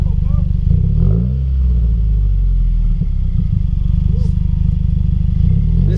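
A Subaru WRX fitted with a Tomei catback exhaust rumbles loud and close, revving with a rattling note while people talk over it.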